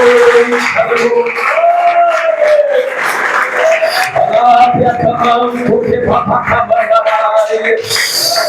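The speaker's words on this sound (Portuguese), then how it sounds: "Pode louvar a Ele com palmas bem alegres nesta noite" A church congregation claps joyfully in praise during an evening service. Rapid, busy clapping runs under voices singing and calling out, loud and continuous from start to finish.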